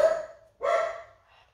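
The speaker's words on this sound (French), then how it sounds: "Oh, désolée, j'ai un chien." A dog gives two close, loud barks with a brief gap between them, the second one longer, followed by a faint trailing whine.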